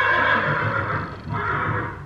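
A horse gives a loud, close whinny, a quavering neigh that rises and wavers for about two seconds with a brief dip midway, heard alone without speech.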